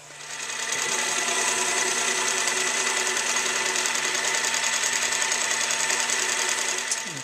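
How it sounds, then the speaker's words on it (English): A metal lathe facing off the bottom of a machined column, running as a steady, continuous whirring hum with a faint mechanical chatter that holds evenly for several seconds, with no talking. "I need to face this off to the bottom of this"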